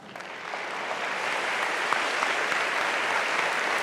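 A talk audience applauds a speaker named Camila at a university event, steady full clapping from a large crowd that swells slightly and holds evenly throughout.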